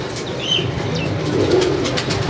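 Pigeons coo close by, a low, steady warbling murmur with soft repeated calls and no talking.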